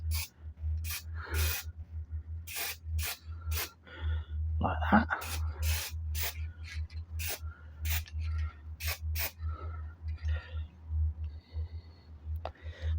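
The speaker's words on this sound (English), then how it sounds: "with a simple spray can." Short bursts of aerosol spray paint hiss in quick repeated puffs as a man paints bow limb pockets, talking quietly between them, with a low background hum.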